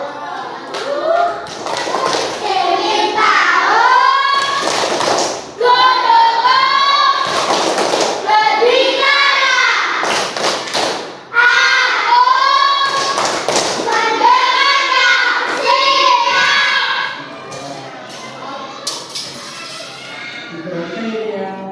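A fourth-grade class claps sharp rhythmic patterns in loud bursts, with children's voices chanting and talking in Indonesian between and over the claps, close by.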